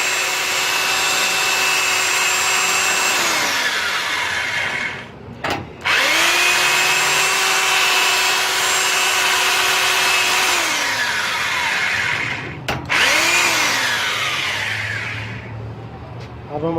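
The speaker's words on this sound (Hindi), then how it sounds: "ये मैं 2 सूत्र का सुराख कर रहा हूँ," An electric drill boring a hole with a 2 sutar bit while building a UPS housing, whining steadily at high speed for several seconds, briefly stopping twice and restarting, then winding down near the end.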